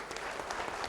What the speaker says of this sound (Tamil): மதுரை சாப்டர் முகேஷ் அவர்களுக்கு ஒரு கைத்தட்டல் கொடுக்கலாம்